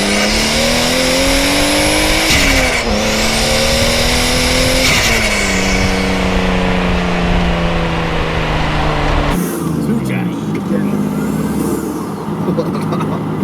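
Toyota 2JZ turbo engine swapped into a Ford Capri, loud and close, accelerating hard through rising gear pulls with falling pitch at each shift, then a sharp drop in tone near the end.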